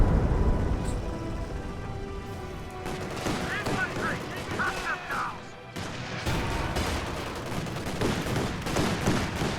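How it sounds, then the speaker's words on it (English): Rocket barrage in Company of Heroes 2, a dense, loud run of overlapping explosions and gunfire that goes on for the whole stretch, with a voice talking over the battle. "And I'm sending in my rockets."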